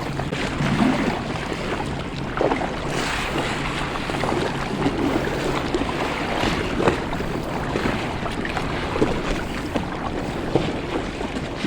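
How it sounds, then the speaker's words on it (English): Water slaps against the hull of a kayak paddled around the outside of a jail barge in the Bronx, New York City. The sound is a steady, dense wash of splashing and lapping under some wind noise, close to the boat and continuous throughout. "You can just hear the water slapping up against the hull."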